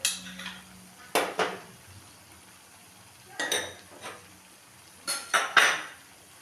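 Ground spices with pepper and garam masala being stirred in a pan for Afghani egg curry: a few sharp metallic scrapes and clinks in separate bursts, with quiet pauses between them.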